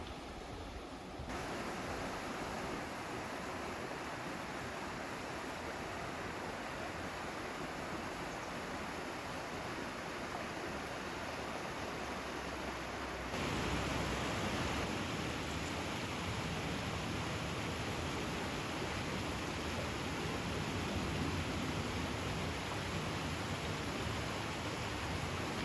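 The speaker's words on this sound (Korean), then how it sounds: "걷는 내내 계곡 물소리가 더위를 쫓아줍니다." A mountain valley stream flowing along a forest trail, giving a steady, dense rush of water throughout, with a slight jump in loudness partway through as the flow comes closer, and no voices.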